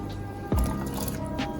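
A small amount of water is poured over okra in a cooking pot, making a short, close splash and liquid squish that starts abruptly and settles into a soft trickle.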